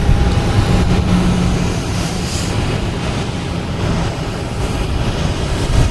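An airliner rolls down a runway at Boston Logan Airport for takeoff, a loud, continuous broadband engine roar heard from a distance that holds steady throughout, with no talking.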